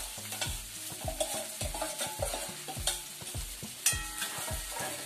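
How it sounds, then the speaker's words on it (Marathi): Sago pearls being stirred into potatoes frying in a pan, with a spoon scraping in a steady repeated rhythm over a continuous close sizzle and no talking. "आता आपण हे साबुदाणे आहेत ना ते टाकूया."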